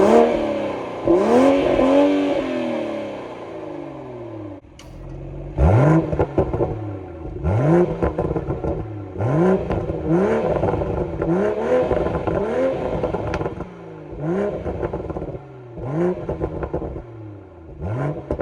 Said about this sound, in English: it has a great exhaust note